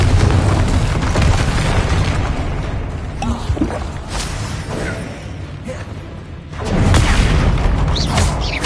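Repeated Confringo blasting-spell explosions from Hogwarts Legacy on PS5, booming bursts layered over continuous battle noise, with a big blast swelling near the end.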